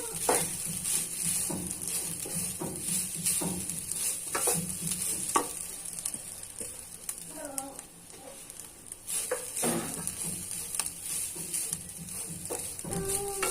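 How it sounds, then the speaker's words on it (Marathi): Grated coconut roasts in a hot kadhai over a low flame for fried modak, with a steady sizzle and repeated scraping stirs of a spatula against the pan, close and fairly clear. "याला 2 मिनिटं असं मंद आचेवर परतून घ्यायचं आहे."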